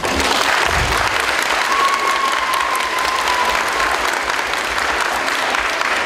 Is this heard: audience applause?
yes